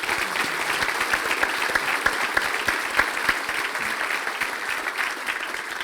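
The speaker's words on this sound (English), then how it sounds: "If we could please have a round of applause for all of our speakers." Sustained audience applause for speakers at a December power breakfast, a dense, even roar of many hands clapping from a large room, steady throughout.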